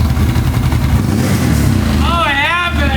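Engine of a 2023 Can-Am XXC motorcycle on its stock exhaust, running loud and close with a steady throaty rumble, then a rising and falling rev near the end.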